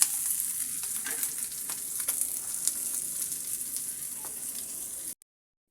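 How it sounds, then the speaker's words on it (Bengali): Tilapia fish sizzles in hot oil with a steady, crackling hiss and a few light scrapes, then the sound cuts off abruptly near the end. "আমি মাছগুলোকে ভেজে নিয়েছি"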